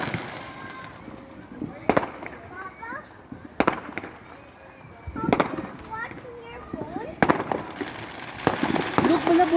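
Fireworks going off outside on the Fourth of July, heard as several sharp, loud bangs spaced a few seconds apart, under steady chatter from children and an adult speaking nearby.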